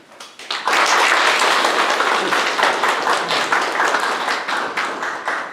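Audience applause at a town residents' meeting with the mayor of Sejong in Sojeong-myeon: a crowd bursts into loud, steady clapping that swells quickly and holds, thinning slightly toward the end.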